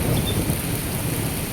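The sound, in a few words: thunder during a rainstorm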